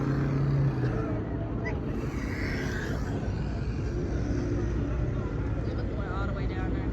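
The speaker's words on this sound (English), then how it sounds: "I finally get to hear my car on the outside." A straight-piped Chevrolet Camaro SS at a car meet, its engine and exhaust a steady, loud low rumble that drones continuously beneath people talking nearby.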